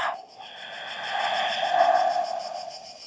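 A slow, deep exhale during yoga breathing, a close, airy breath that builds gradually and then eases off, with no one talking.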